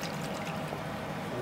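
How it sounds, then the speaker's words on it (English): Water poured into a sauce jar and shaken, a close, continuous sloshing wash lasting a moment. "we just quickly put some water in the jar to get the rest out"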